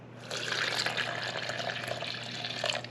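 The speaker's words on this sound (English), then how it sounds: "I'm going to go ahead and add the water." Water pours into a well in flour for a sticky sourdough dough, a close, steady splashing stream lasting a few seconds.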